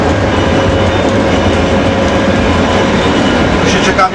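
A passenger train passes close by as a loud, steady rumble with rolling rail noise, continuous and dense throughout, with no clear voices on top.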